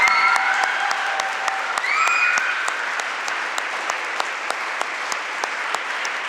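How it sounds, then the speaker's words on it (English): Sustained applause from a crowd in a school gym at a middle school National Junior Honor Society induction, steady and fairly loud throughout, with a few whoops and whistles near the start. "Could we have one more round of applause for these wonderful students?"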